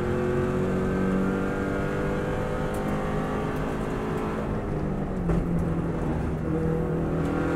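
Subaru rally car on the Isle of Man TT course, engine revving hard at full power with a loud, sustained harmonic drone that rises and falls through the gears, alone with no talk.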